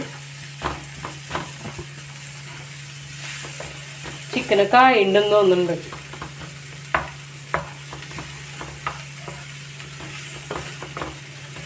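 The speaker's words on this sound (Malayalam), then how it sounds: "ഇനി മിക്സ് ചെയ്യാം കേട്ടോ ജസ്റ്റ് സോട്ട് ചെയ്താൽ മതി" Chicken and onion sautéing in a pan for chicken samosa filling, a steady soft sizzle with light stirring clicks under a brief spoken remark.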